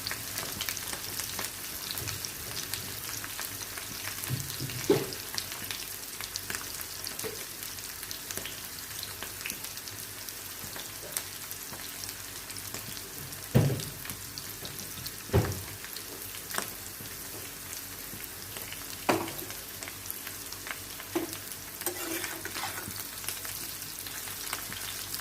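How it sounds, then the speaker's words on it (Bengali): Fish fries in a pan until reddish, giving a continuous fine sizzle and crackle with occasional sharp pops and utensil knocks, close up, with no voices. "লাল লাল করে ভাজা হোক।"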